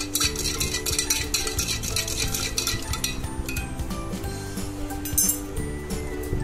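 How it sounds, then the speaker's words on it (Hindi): A spoon stirs chaat masala and black salt into a glass of pomegranate lemonade, clinking rapidly and repeatedly against the glass, close and bright, with no talking. "इसको अच्छे से मिक्स करूंगा मैं"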